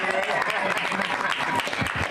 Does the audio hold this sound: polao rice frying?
no